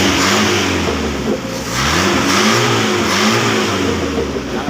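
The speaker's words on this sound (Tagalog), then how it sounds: "Ang lakas, napakalakas na ng makina." A car engine revving after its carburetor was repaired, loud and close, rising and falling in several strong throttle pulls over a steady running drone, with no talk.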